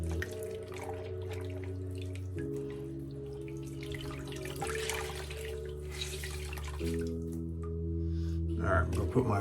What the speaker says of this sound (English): I'm gonna put my brush in the water here and let it soak out